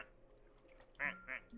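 A man mimics a duck, giving two short nasal quacks close to the mic, the second slightly softer, after a quiet stretch with faint background murmur.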